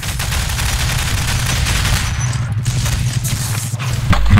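Rapid gunfire from Half-Life 2: Deathmatch rattles on steadily throughout, loud and close, with a few heavier impacts near the end.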